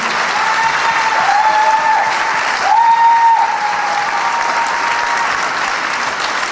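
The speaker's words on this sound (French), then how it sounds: "Donc merci, merci de vous applaudir." Loud, sustained audience applause at the Miss France event, dense even clapping filling the hall with a faint tonal sound above it.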